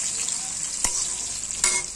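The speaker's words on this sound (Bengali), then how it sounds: "দিয়ে কচুটা হালকা করে ভাজা করে নিব" Taro pieces frying lightly in a pan with a little turmeric and salt make a steady, close sizzle, broken by two brief stirring clicks; no one speaks.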